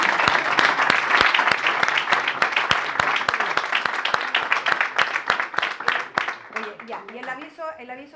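A crowd at a Chilean park project presentation applauds the organizers' father and uncle. Sharp, close claps set a strong rhythm, then the applause trails off while voices start talking near the end.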